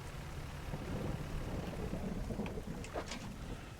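Rain and rolling thunder in the fishing video game Dredge, a steady low rumble under constant rain patter with no voices.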